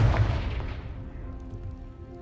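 A Confringo spell blast in Hogwarts Legacy: one heavy, booming explosion at the start, followed by a rumbling decay and faint ringing tail that fades out over about two seconds.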